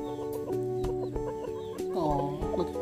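A frizzle chicken clucks repeatedly in a garden, close and fairly quiet, in a string of short soft clucks with a rising call near the end.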